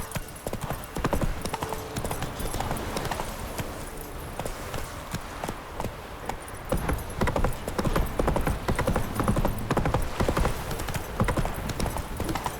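A horse galloping in the video game The Witcher 3, with rapid, loud hoofbeats pounding continuously and close, a brief whinny near the start.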